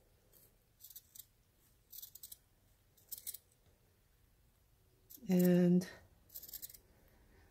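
Scissors snip through a knitted steek on the front of a Norwegian cardigan, a few soft, spaced cuts in a quiet room, with a brief louder tonal sound near the end and a short spoken word.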